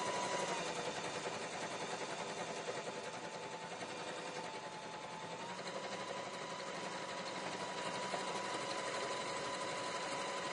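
A Janome HD5000 heavy-duty sewing machine stitches through eight layers of denim, making a continuous, loud, even mechanical whirring and rapid needle chatter that holds steady for about ten seconds with no talking.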